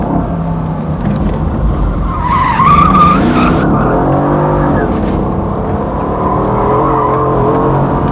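A Mercedes-AMG GT S with a 510-horsepower V8 slides with traction control fully off, tyres squealing in a rising screech over the steady, loud engine drone, with a brief voice under the noise.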